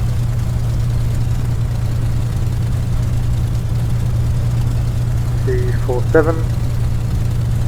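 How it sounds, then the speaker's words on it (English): A Spitfire engine idling steadily in a flight simulator, a constant low drone under a brief spoken number. "Engine seems to be running a bit smoother now"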